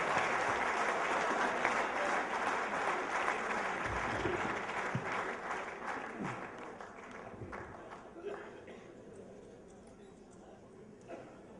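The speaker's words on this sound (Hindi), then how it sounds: "एक बार पूरा सदन वरिष्ठतम कवि माधव जी के लिए हाथ उठाकर जोरदार तालियां बजाकर उनका स्वागत करें।" An audience at a kavi sammelan poetry gathering applauds to welcome a senior poet, a broad wash of clapping from a crowd that gradually thins and fades, with some voices mixed in.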